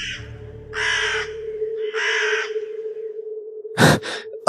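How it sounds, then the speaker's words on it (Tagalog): A crow caws twice in harsh drawn-out calls over a low steady hum, followed by a couple of quick sharp noises near the end. "Bigla naman may narinig akong tunog ng uwak."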